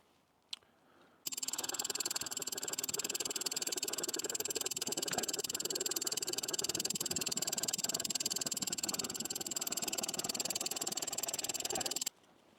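An Olfa bushcraft saw cuts through a 2 1/4 inch apple limb with rapid, steady rasping strokes that run continuously for about eleven seconds, close and even, then stop abruptly.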